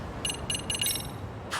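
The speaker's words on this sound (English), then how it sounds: "All you're hearing is beeping for like" Repeated electronic beeping in the Lost Judgment video game, four short high tones in a quick, evenly spaced burst followed by one more beep after a pause, over a soft low background.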